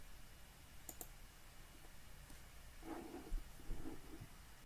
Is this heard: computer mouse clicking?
yes